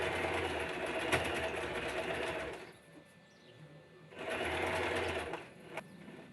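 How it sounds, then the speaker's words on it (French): A sewing machine stitches a gathered fabric bag in two brisk bursts of rapid whirring, with a short pause between them, close and clear. "puis piquez à la machine."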